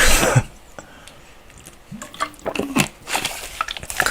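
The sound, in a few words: drinking water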